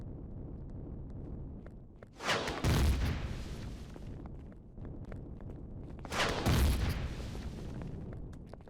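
Rocket launcher firing in the game Empyrion Galactic Survival, two heavy booming blasts a few seconds apart, each with a rumbling decay over constant background game ambience.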